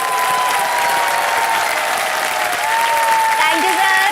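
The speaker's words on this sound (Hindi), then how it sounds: "तालियां बज जाए जोरदार।" Sustained, steady applause from a television studio audience fills the space evenly, dense and loud throughout, with a faint voice underneath.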